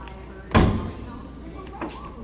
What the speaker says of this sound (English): Your driver's door actually opens the door wide up.